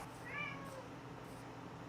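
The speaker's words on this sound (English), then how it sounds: "I don't know if you can hear my cat screaming in the background" A cat screams and meows faintly in the background, one brief rising-and-falling cry at the start over quiet room tone.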